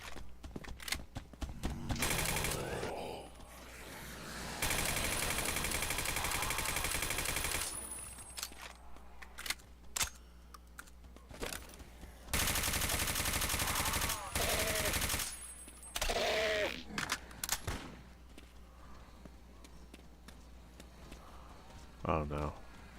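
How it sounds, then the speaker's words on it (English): Gunfire in the DOOM CoD Tarkov 1.2 mod with Hunter Reinforced Zombies: long, loud sustained automatic bursts alternate with shorter volleys and single shots, with a person talking in the quieter gaps between them. "You guys are getting shot in the back by your gunners"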